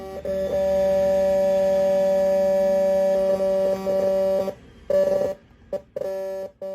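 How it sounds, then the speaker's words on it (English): Loud, steady electronic tone with buzzy harmonic layers, like an old dial-up modem, sounding continuously while a Daily Mail web page is browsed, then breaking into choppy bursts and gaps near the end. "Now, here's the sound of browsing a web page from the Daily Mail,"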